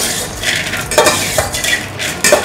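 Fried okra being scooped from hot oil in a pan, with loud close scraping and clinks of a metal ladle against the pan over a bubbling sizzle, a few distinct strokes with no talk.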